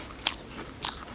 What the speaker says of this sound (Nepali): म चपाउँछु फेरि